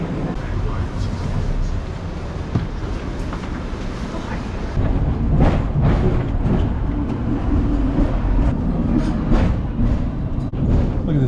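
A Hong Kong tram rumbles and rattles steadily along its track, with broadband street and wind noise throughout and the din growing louder midway.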